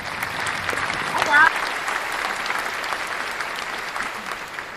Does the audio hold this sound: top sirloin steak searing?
no